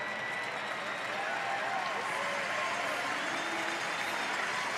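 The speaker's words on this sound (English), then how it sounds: "And the State fans giving him a round of applause" Mississippi State baseball fans applauding a catch at a game against Louisiana, a distant, soft spread of clapping and crowd noise from the stands, steady throughout.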